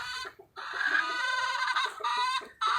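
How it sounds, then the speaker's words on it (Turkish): Purebred chickens cluck and squawk continuously and close by, with several birds overlapping in busy, nasal calls and brief pauses. "tavuklar var. Cins tavuklar."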